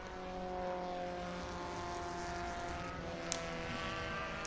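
Mazda Miata Group 3 race car running at Barber Motorsports Park, a steady harmonic engine drone held at a distance throughout, with a brief sharp click near the end.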